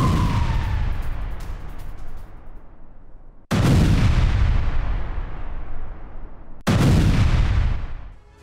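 Artillery fire from Ukrainian attacks on Russian forces in Donetsk: three loud, heavy booms spaced a few seconds apart, each followed by a long rumbling decay.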